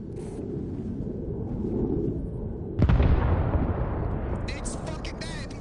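In the Arma video game, an F-18 air strike lands with a sudden heavy blast that rolls into a long rumbling decay, with low ambient noise before it and brief crackles afterward.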